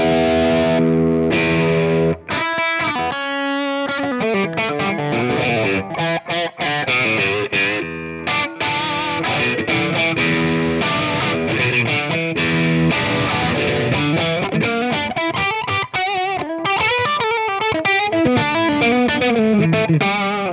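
Electric guitar played through an ML Sound Lab Super Duper distortion pedal set toward heavy distortion rather than crunch, with loud, continuous riffing that mixes sustained chords and quick single-note runs, alone without talk.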